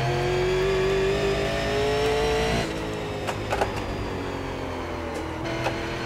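Super Late Model race car engine in iRacing at Concord, a loud sustained droning whine that drops in pitch as the car lifts off, then a lower steady engine note.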